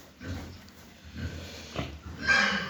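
Pigs grunt and snort nearby in a few low, irregular bursts, with a sharper squeal-like sound near the end.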